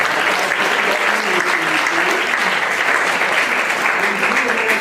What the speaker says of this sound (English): let's give them all a round of applause here.